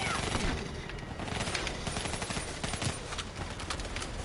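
Dense gunfire from the Call of Duty: Black Ops 3 video game, rapid overlapping shots and automatic bursts running steadily throughout at a loud, constant level.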